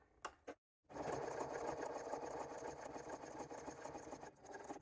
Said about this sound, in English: sew directly next to that painter's tape